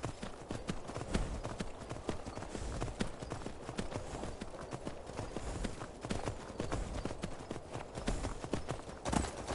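Steady clip-clop of horse hooves trotting up a steep hill in the video game Skyrim, at a brisk, even rhythm, moderately close, continuing throughout with a slightly busy background.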